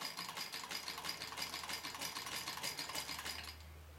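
A PMZ-1A sewing machine from the 1940s–50s stitches with a rapid, even mechanical chatter that runs steadily up close, then cuts off near the end, leaving a low hum.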